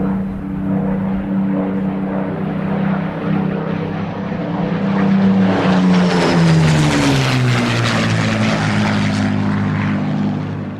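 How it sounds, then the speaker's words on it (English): A WWII-era Spitfire fighter over Malta in 1942, a loud, sustained piston-engine drone that swells and shifts pitch as the aircraft passes overhead, with no talk. "came the reassuring sound of an aircraft that was more than a match for the German and Italian fighters"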